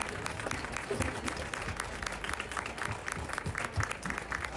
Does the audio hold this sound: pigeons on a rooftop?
no